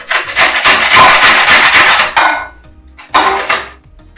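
Lemon peel is grated for a lemon cake, giving loud, close, scratchy rasping strokes for about two seconds, followed by a short pause and one more brief burst.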